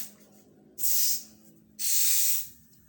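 A clogged motorcycle fuel injector being cleaned sprays in two loud, close hissing bursts of about a second each, separated by a short quiet gap.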